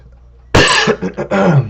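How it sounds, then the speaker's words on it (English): A sudden loud cough followed by a few rough, choppy coughing bursts, close up, after eating a nut too fast. "I'm coughing."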